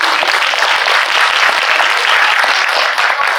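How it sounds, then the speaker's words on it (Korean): Dense, loud applause from a large audience at a Korean film screening with guest talk, steady throughout without pause. "우리 박수 한번 부탁드립니다"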